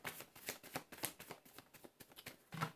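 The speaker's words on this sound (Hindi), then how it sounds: "this is my last shuffle" Tarot cards being shuffled by hand, a steady run of crisp riffling and flicking bursts repeating close up and fairly quiet, with no voices.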